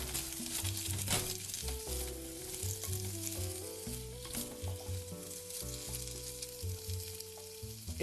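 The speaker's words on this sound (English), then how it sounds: "Saute them for about 3 to 5 minutes, just to warm them up." Potatoes sauté in butter with celery and onion for a clam chowder, a steady close sizzle and frying crackle running throughout, with soft music playing underneath.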